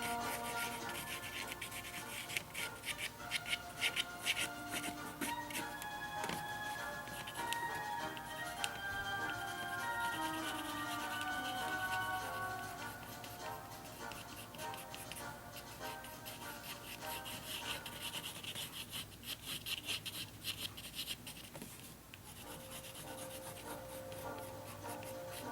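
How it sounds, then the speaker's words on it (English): Crayon lightly scratching across a paper surface in a watercolor lesson, a soft continuous dry rubbing and scraping with small ticks, steady and close, with no speech. "Notice that I'm lightly scratching the surface here."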